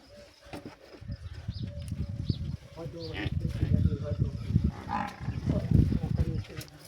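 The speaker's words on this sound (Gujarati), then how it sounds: "ખૂબ જ સારી એવી ગાય" Kankrej cows moo several times in low, drawn-out calls, with a voice talking over and between them, close by.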